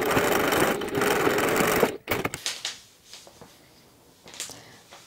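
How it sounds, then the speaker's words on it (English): A sewing machine stitches the nose-to-chin seam of a fabric memory bear, running in a loud steady burst for about two seconds before stopping, followed by quieter rustles and handling of fabric. "Take that to the machine and stitch nose to chin."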